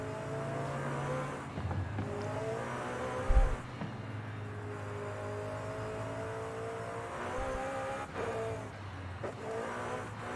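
A 2021 McLaren GT's engine in Forza Horizon 5, driven with a Logitech G29 wheel: a steady, moderately loud drone that rises and falls with throttle changes, with a couple of brief gear-shift dips and low bumps, and no voices.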